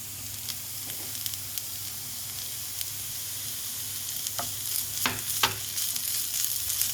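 Onions sauté in a pan with chillies for an omelette, giving a faint, steady sizzle with scattered stirring scrapes and sharper clicks that grow a little busier toward the end.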